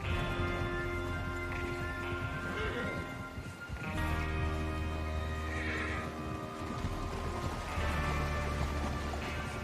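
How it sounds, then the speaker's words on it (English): Horses whinnying loudly over a steady clatter of hooves on the ground, with a low rumbling background, in Red Dead Redemption 2. "Get your horses ready."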